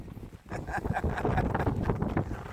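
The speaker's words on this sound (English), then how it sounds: "It's pretty windy, isn't it?" Wind gusting steadily across an open lakeside ski beach park in Big Bear, a continuous low rumbling roar of buffeting against the microphone, loud and close throughout.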